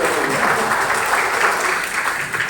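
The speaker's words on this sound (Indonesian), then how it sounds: "mari kita sambut dengan tepuk tangan bagi mereka yang bekerja" Loud, sustained applause from a church choir gathering honouring teachers and workers, many hands clapping in a thick steady roar with slight swells.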